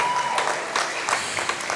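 A short burst of audience applause at a school arts showcase, moderate crowd clapping heard briefly with some soft room noise.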